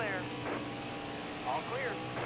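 A steady NASCAR Heat 5 video game race truck engine drone runs throughout at full throttle, with a few faint harmonic whines rising over it.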